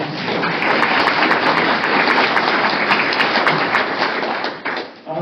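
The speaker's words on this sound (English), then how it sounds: "Can we give the staff a round of applause, please?" An audience at a museum talk applauds the serving staff, a dense and steady round of clapping that fills about five seconds before tapering off.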